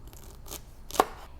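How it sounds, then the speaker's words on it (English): A knife dicing fennel bulb on a cutting board in a home kitchen, giving a few quiet, scattered cuts and one sharper, louder chop near the end, with no talking. "now we're going to dice up some fennel"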